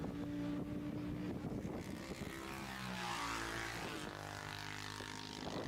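A Tigcraft 690 classic racing motorcycle passes during a classic bike race, its engine note swelling and falling in a steady loud roar with wind noise, no talk over it.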